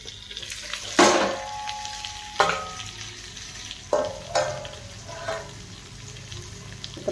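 Bitter gourd (karela) stir-fried in a pan, low sizzle punctuated by several loud metallic scrapes and clanks of a spatula at irregular intervals, close by with no speech.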